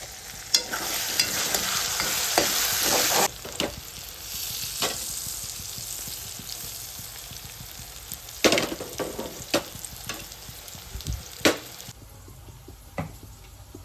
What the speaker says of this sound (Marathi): आता मी हे अंडे ते मी ह्या पॅनमध्ये बटर टाकून शॅलो फ्राय करेल